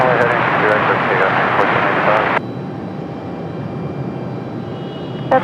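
An airliner roars on its takeoff run from runway 23 right at Raleigh-Durham, a loud broadband engine rush that drops suddenly in level partway through and continues as a lower steady rumble.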